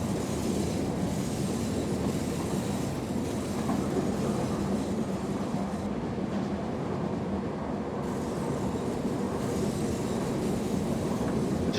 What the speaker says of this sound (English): so I've idled the power once again to allow the train to coast